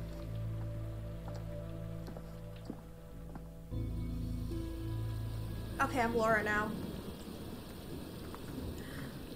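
Steady rain falls in the video game The Quarry, with a low rumble of thunder beneath it while a character speaks over the downpour.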